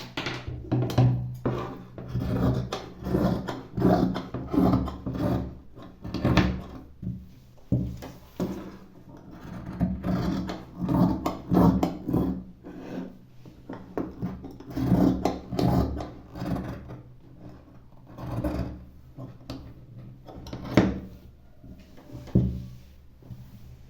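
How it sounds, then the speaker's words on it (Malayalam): Fabric being cut for palazzo pants, a steady run of close, rasping scissor snips and rustling cloth that continues without a break and with no voices. "ഇനി നമുക്കിത് കട്ട് ചെയ്യാം."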